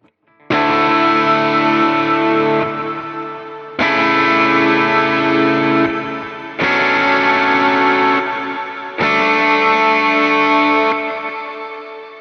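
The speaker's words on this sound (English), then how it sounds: "That is one of the coolest gain sounds I've ever heard, especially for lead playing" Electric guitar played through a Line 6 HX Stomp high-gain lead snapshot, four loud sustained chords or held notes with long ambient decay, each ringing out for a few seconds before the next, with no talking.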